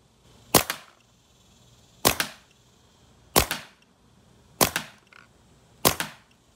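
An NXT Shocker paintball marker firing through a chronograph, five sharp, evenly spaced pops about 1.3 seconds apart, each crisp and close with a brief tail, against a quiet background.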